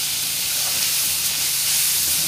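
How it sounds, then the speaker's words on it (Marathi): Onion fries in a pan, an even, unbroken hiss of sizzling oil heard close up for a couple of seconds with no talking. "कांदा आपला छान फ्राय झालेला आहे।"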